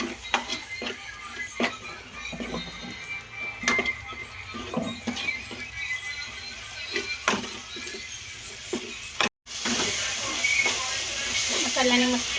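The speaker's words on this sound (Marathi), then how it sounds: "कांदा टमाटरची ग्रेव्ही आता मी टाकते याच्यामध्ये." Onion and tomato gravy hits a hot pan with oil, giving a broad steady sizzle and hiss that grows louder and brighter in the final seconds, with scattered clinks from the pan alongside.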